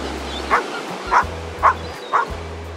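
A dog barks four times at an even, unhurried pace, each bark loud and close against a low background rumble.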